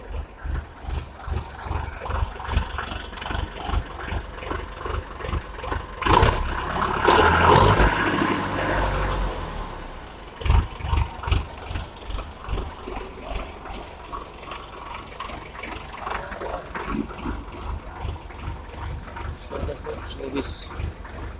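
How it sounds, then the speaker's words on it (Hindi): A Sonalika 750 tractor's diesel engine runs in a steady rhythmic chug, mid-distance and fairly loud, with a louder surge partway through and someone talking over it at times. "ट्रैक्टर की आवाज इसकी"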